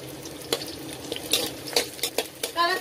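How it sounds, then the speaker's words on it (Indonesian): Candlenuts fry in a pan with shallots and garlic, a faint sizzle under a few clicks and scrapes of a spatula against the pan, close and without speech. "kemiri kita goreng."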